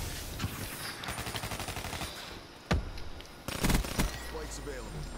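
Automatic gunfire in the shooter Black Ops 3, rapid bursts of shots with a couple of louder single reports, heard under game sounds and a person talking.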